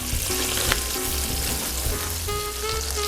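Butter frying in a pan on the stove for risotto, a dense steady sizzle close up with light stirring scrapes, no voices.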